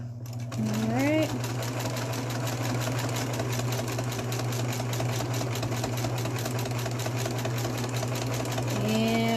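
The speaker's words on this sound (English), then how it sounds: "And just gonna sew across." Sewing machine stitching across a fabric face mask with a wire insert, a steady close mechanical whir and rapid needle rhythm running throughout, with someone talking over it.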